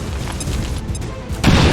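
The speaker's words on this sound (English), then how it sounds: "you just grenade and take him out" A grenade goes off in XCOM 2: War of the Chosen, a loud, deep boom that hits suddenly after a brief lead-in of game sounds and rumbles on to the end.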